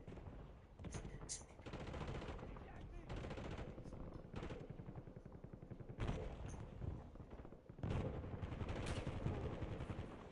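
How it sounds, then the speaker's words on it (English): Dense Call of Duty gunfire from an online Rebirth Island match: sustained automatic bursts and rapid shots crackling nearly continuously, with louder volleys near the end, under game chatter and voices. "Incoming fire!"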